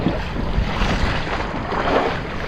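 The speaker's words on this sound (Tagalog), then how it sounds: "Laki ng alon." Big sea waves slapping around a small fishing boat off Cavite in the Philippines, with strong wind buffeting the microphone in a dense, continuous roar.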